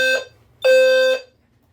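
An EST Fireshield fire alarm sounds during a system test with two loud, close, harsh electronic horn blasts: a short one followed by a longer one of about half a second, then silence.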